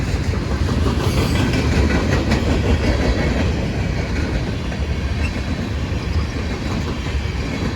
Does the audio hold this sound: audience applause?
no